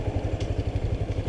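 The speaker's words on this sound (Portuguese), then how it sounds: "Vou parar a moto mais ali, ó." A motorcycle idles near a grotto, its engine chugging in a steady, rapid low pulse with light clatter, close and moderately loud, no voices.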